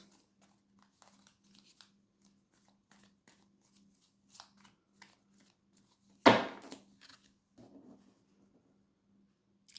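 A deck of cards gets a single sharp riffle shuffle, a short crisp burst standing out from a quiet room with a faint steady hum, followed by a few soft shuffling rustles.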